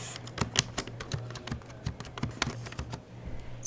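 Someone types on a computer keyboard, a steady run of quick, close key clicks with a faint low hum underneath and no voices.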